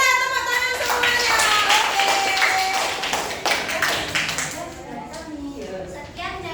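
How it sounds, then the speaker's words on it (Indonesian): Children in a primary school classroom clap together in a loud, continuous rattle, with children's voices chattering and calling out over the clapping. "Gembira, tepuk tangan semuanya."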